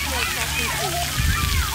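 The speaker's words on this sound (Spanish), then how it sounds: "Ese bucket que dice Fire Station se está llenando de agua." Water sloshes and splashes at a water park as a large tipping bucket fills, a steady wet wash with a heavier splash toward the end, under continuous talk and children's voices.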